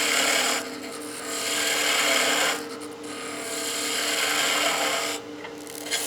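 Skew chisel taking planing cuts on spinning wood on a lathe: a continuous hissing, rasping shave that swells and eases in three passes, close and fairly loud over a steady machine hum.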